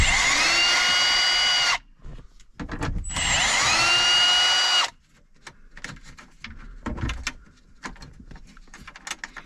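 Power drill spinning out 7mm bolts from a Chrysler Jeep Ram Dodge car radio bezel, two long loud whirring bursts with pitch sweeps, followed by quieter clicks and rattles of loose parts.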